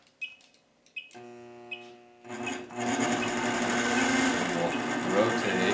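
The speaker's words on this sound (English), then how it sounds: "We'll turn on the sewing machine." After a few clicks and a brief hum, a sewing machine whirs to life and runs steadily at a fast, even pace.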